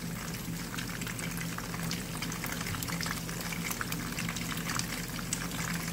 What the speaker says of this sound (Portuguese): Eu vou aproveitar essa gordura e vou fritar a batata